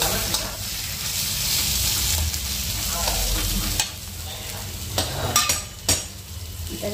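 Paneer is stirred in a cooking pan, giving a continuous close sizzle and frying hiss with a few scraping clicks of a utensil near the end, with no talk.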